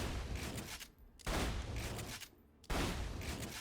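Three heavy blasts from a Bandit shotgun in Borderlands 2, spaced roughly evenly apart, each a loud burst with a short decaying tail.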